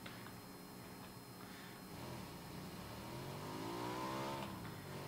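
In the video game PUBG, a motorcycle engine rises in pitch as it revs and accelerates, a faint, steady motor drone building toward the end, with no voices.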